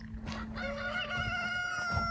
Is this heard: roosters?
yes